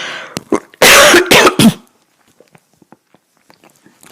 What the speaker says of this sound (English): Excuse me a moment, I'm going to cough.